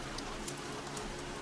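Steady, soft rain patters evenly on a surface with scattered drops, a quiet continuous wash with no voice over it.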